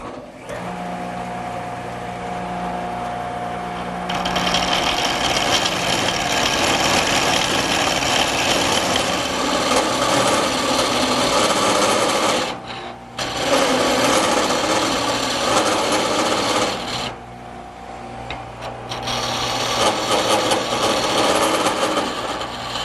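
A wood lathe spins a table-leg blank as a gouge rides the tool rest, rounding it down toward about an inch and an eighth; a loud, steady whirring hum with coarse shaving noise, cutting out briefly twice as the tool lifts away.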